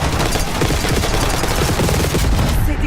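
Dense, loud, rapid gunfire rattles nonstop in Call of Duty: Black Ops 6, overlapping bursts that form one continuous barrage.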